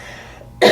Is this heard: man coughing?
yes